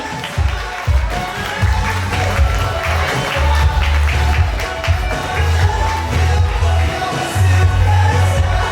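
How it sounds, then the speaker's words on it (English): An audience at a design show claps and cheers for the people brought up on stage, steady crowd applause over a loud, thumping low music beat. "Give them a big clap again."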